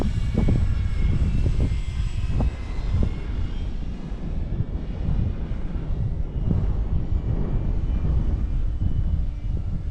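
An E-flite Turbo Timber RC airplane flying on floats at an airfield, its electric motor a steady droning whine heard at a distance beneath heavy wind noise, with no talking.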